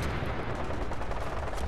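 Continuous rapid gunfire in a post-apocalyptic role-playing game, a dense, steady roar of shots with no clear gaps and no voices.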